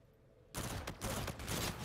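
Video game gunshots burst out suddenly after a quiet moment, a rapid cluster of sharp cracks in quick volleys.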